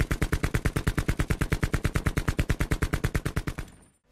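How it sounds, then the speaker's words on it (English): Rapid automatic fire from the MX in a Call of Duty game, a sharp high-pitched burst of roughly thirty evenly spaced shots, loud and close, cutting off abruptly near the end. "the MX version was very high-pitched, almost like the audio clip of the gunshot got cut in half during the editing of it"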